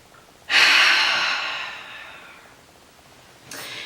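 One long, deep breath drawn in and let out slowly, close and loud, fading gradually, before the next breath begins.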